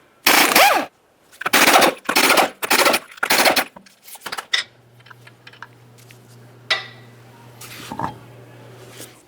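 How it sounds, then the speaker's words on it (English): An impact wrench spins off the 19mm lug nuts on the rear wheel of a 2009-2019 Ford Flex, sounding as five loud, close rattling bursts in a row, followed by quieter clanks and clicks. "continue on to removing all 5 of your 19mm lug nuts and then the wheel"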